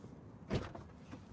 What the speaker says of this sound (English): let's open this other door